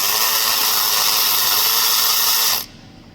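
A power tool runs at a steady, loud, continuous whine, removing a 30mm nut from a Chevrolet Equinox starter motor. It cuts off sharply near the end, leaving only faint room noise.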